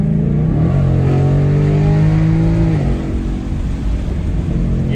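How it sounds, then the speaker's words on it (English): A 2022 Mustang GT with a Gen 3 Coyote V8, X-pipe and stock mufflers accelerates, its loud, raw exhaust drone climbing in pitch then easing off, close and continuous with no talk. "It sounds like a Mustang, Gen 3 Coyote motor should sound."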